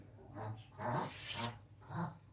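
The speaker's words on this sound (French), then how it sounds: "ça c'est ma chienne, désolé, qui fait du snooze reverse" A dog reverse sneezes indoors, three or four loud snorting, honking inhalations in quick succession, close by and alone without talk.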